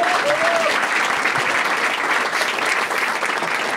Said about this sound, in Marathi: चला याच्यासाठी टाळ्या वाजवा एकदा.